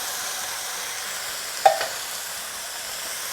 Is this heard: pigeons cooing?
no